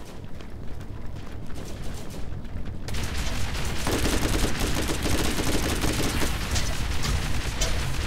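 Artillery fire from the Earth Guardian boss in the Borderlands video game: a dense, continuous barrage of booming shots that grows louder and fuller partway through and then keeps pounding without a break.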